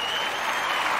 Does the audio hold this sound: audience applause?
yes